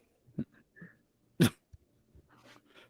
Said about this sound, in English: He's a big dog.